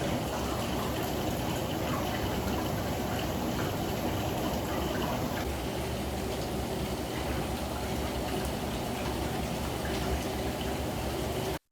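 Water jets of a SanSiro Augusta 71-inch jetted bathtub run continuously with a steady rushing, bubbling churn, loud and close, with a brief tonal whine early on and no voices.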